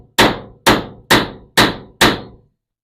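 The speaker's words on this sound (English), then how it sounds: "Maybe if I just use a regular hammer." A regular hammer drives a door pin into a Chevy K10 door with five loud, evenly spaced metallic whacks, each ringing briefly before the next, close and alone.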